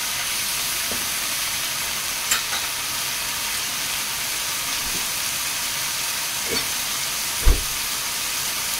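Food being stirred in a sizzling frying pan, a steady loud hiss of frying with occasional soft knocks and scrapes of the utensil against the pan, no talking.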